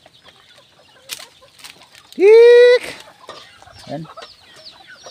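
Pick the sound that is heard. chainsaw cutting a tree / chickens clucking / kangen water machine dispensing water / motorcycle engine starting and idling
chickens clucking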